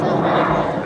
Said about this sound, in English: pulling the nose of the airplane up and over here as he comes across the top